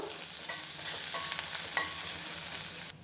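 Spices for buttermilk curry stir-fried in a pan, with a steady bright sizzle and scraping stirs for a few seconds before cutting off abruptly, close and loud, with no voices.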